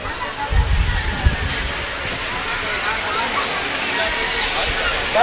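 Sudden heavy rain pours down during an outdoor Hindu religious discourse, a steady, loud broadband roar that fills the whole stretch, with faint voices underneath.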